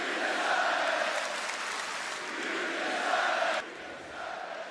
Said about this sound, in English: The crowd chanting, "You deserve it."